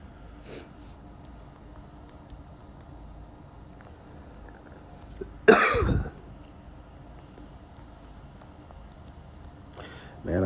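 One sharp, loud cough breaks through a quiet room, with fainter breathy sounds near the start and the end.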